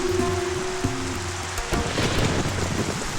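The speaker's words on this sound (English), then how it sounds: "today it's raining too much." Heavy rain pours down in a steady broadband hiss, with a low sustained hum beneath it and a sharper splattering burst partway through, no voices present.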